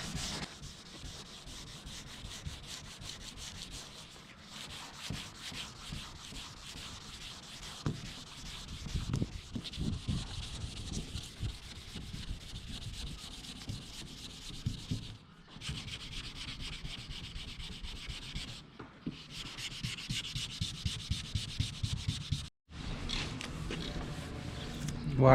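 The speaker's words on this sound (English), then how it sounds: "I actually decided to go with the wet sanding method because the paper was gumming up" Wet sanding a car hood by hand with sandpaper and water, heard as close, continuous rhythmic rubbing strokes with brief pauses between passes, fairly quiet overall.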